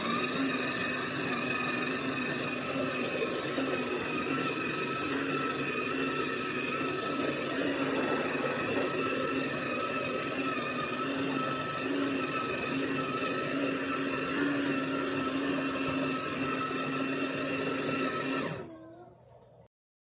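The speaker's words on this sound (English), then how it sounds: "Then let's start grind." The built-in grinder of a Ninja Luxe Cafe espresso machine grinds coffee beans with a steady, loud mechanical whir. It runs for nearly twenty seconds and then stops abruptly, with no voices over it.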